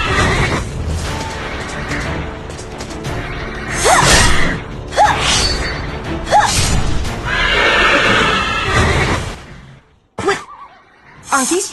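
Black unicorns in the Iron Throne mobile strategy game whinny repeatedly, loud and close, several sharp neighs over rumbling effects, clip-clop and whooshes, ending in a short burst after a brief drop.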